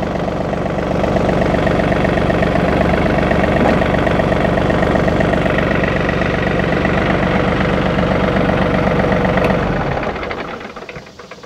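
A John Deere 3043D compact tractor engine runs steadily and close, a loud, even, slightly shaky diesel drone switching between four-wheel and two-wheel drive before cutting off and fading near the end.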